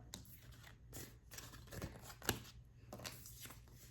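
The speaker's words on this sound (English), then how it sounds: "I've already shuffled all of the cards." A deck of oracle cards is shuffled in a quiet indoor setting, giving soft, rapid papery riffles and flicks in several short bursts, fairly close and low in level, with no talking.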